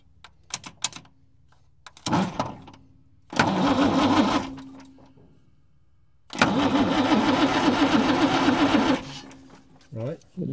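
Starter cranking the diesel engine of a vintage crane truck left sitting for twenty years, two long loud churning cranking bursts after a few short clunks, close up, with no voices.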